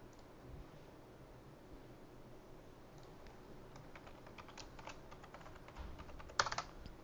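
Computer keyboard keys tapped in short bursts while login details are entered, with fairly quiet clicks over a steady background hiss and a quicker cluster of louder taps near the end.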